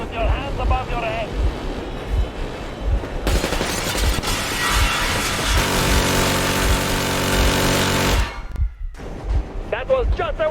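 Warning gunfire in Metro Exodus erupts as a loud sustained burst over a rumbling vehicle engine, cutting off abruptly near the end, with voices speaking before and after.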